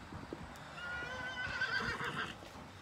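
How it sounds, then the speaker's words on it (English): Loose ponies near a barn and field give a faint, distant whinny lasting over a second, with soft hoof clops and rustling around it. "These horses are wild."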